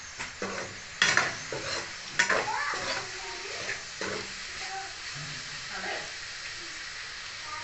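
Onions frying in a pan on a home stove, a steady sizzle and hiss with scraping stirring strokes, while a person speaks briefly.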